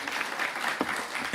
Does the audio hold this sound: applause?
yes